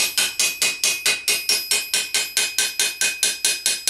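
A hammer taps steel armour in quick, even blows, about four per second, smoothing fluting into the parent metal; each strike rings bright and close, with no voices.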